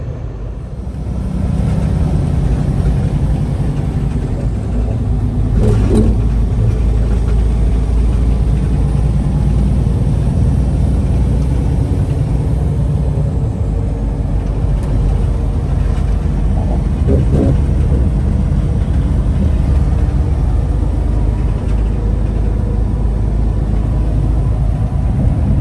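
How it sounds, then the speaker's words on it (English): A truck hauling a 13,000-pound load pulls out of a truck stop, its engine a loud, continuous low rumble that holds steady throughout with a few faint knocks on top and no voices. "I'm pulling out the truck stop here in a moment, and let's get on down the road"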